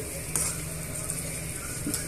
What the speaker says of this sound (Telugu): పోపు దినుసులు ఉల్లిపాయ ముక్కలన్నీ కూడా బాగా వేగిపోయాయి కదండి